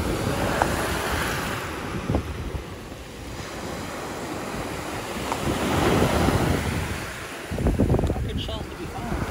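Strong wind buffets the microphone on a Sanibel beach at night, with surf rumbling behind it and gusts swelling and easing; a voice speaks briefly.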